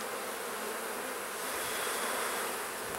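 Honeybees buzzing steadily during a hive inspection, a dense, close drone of many wings with no voices.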